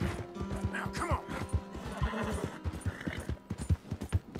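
Horse in Red Dead Redemption 2 whinnies and neighs repeatedly over a steady, loud clip-clop of hooves, with faint game background sounds.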